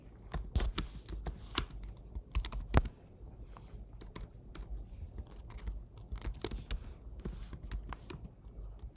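Quiet, irregular tapping of keys on a computer keyboard, with short flurries of typing and a few sharper clicks early on, steady and close with no talking.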